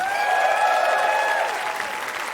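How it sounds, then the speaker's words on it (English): Dense audience applause in a convention main theater, a steady wash of clapping that slowly tapers off, with faint tonal sounds in the background. "another round of applause for Moxie."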